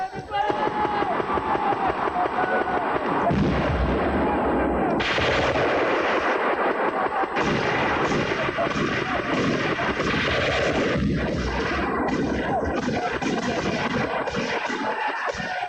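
Army basic training field exercise with dense, continuous gunfire, loud and close, sharp rapid bursts layered with heavier booming blasts, while a narrator speaks over the top throughout.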